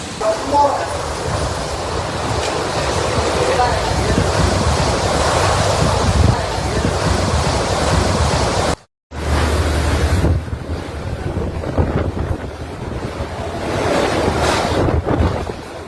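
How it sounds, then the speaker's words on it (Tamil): Hurricane Melissa's roaring winds and crashing surf on the Jamaican coast, a loud, continuous buffeting of gusts over heavy waves with microphone wind noise, briefly cut off before the storm roar returns. "மணிக்கு 230 கிலோமீட்டர் வேகத்தில் காற்று சுழன்று வீசியது"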